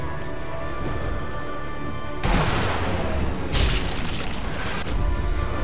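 Gunfire in the World War II sniper game Sniper Elite V2: heavy booming blasts break through a dense, steady wash of game noise, with two strong bursts a second apart.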